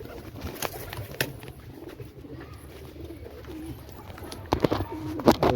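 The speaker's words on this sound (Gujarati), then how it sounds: "કબૂતર પકડીને બતાવું" A domestic pigeon coos softly at close range while held in the hand, low repeated calls over light handling rustles and a few sharp knocks.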